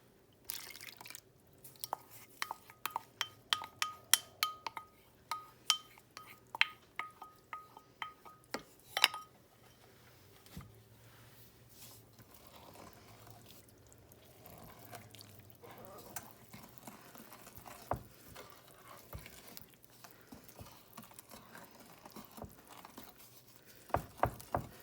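A cocoa mixture goes into brown butter brownie batter for coconut pecan brownies. Close, quiet clicks, taps and drips come first, followed by softer sporadic scraping and stirring of the batter.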